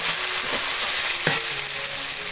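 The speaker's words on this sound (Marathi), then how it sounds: "आता हे चांगलं तेल सुटेपर्यंत ना परतून घेऊया" Onion, tomato and masala paste sautéing in oil over a wood-fired stove, a loud steady sizzle with a couple of sharp scrapes of a spoon stirring the pan.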